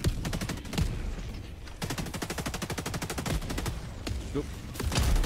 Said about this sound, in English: I would avoid the barrage if I was you.